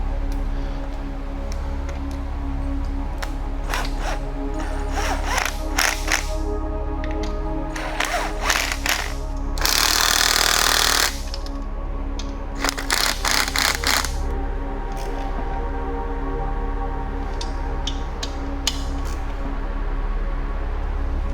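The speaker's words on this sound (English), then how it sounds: "Now we're going to go ahead and put the bolts back in the housing." Bolts are fitted and tightened back into an SR20/KA24 transmission bell housing, with bursts of rapid metallic ratcheting clicks in several separate runs between quieter stretches of shop background.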